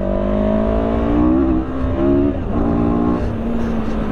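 CFMOTO CLX 700 motorcycle engine revving up and down, its rising and falling harmonics loud and close, steady throughout with a brief dip midway and no talk.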